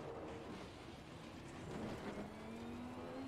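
A race car engine in the racing video game Assetto Corsa Competizione drones steadily with a slowly rising pitch as it accelerates, continuous and fairly close with no talking.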